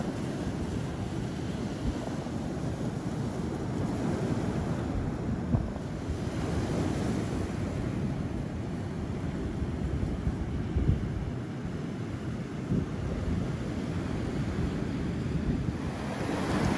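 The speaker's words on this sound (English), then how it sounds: "It's so stormy, the sea's hardly had a chance to go back out as the wind has been pushing in the big waves" Big stormy sea waves breaking on the Jurassic Coast at low tide, with strong wind buffeting the microphone in a steady, continuous roar and no talk.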